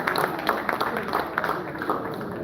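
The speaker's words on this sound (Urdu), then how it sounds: "تالیاں زوردار ہو جائیں تو اچھا لگے گا" Audience applause at the Dubai Poetry Festival 2025 awards ceremony, a steady, dense wash of many hands clapping at moderate level for the full stretch, with crowd murmur mixed in.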